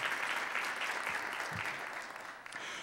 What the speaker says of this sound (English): So just a round of applause for both Jack Dimmer and Schoolcraft, please